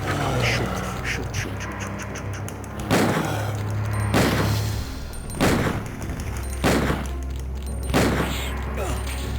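Gunfire in the Resident Evil 2 video game: four loud, sharp shots spaced a couple of seconds apart over a droning game soundtrack.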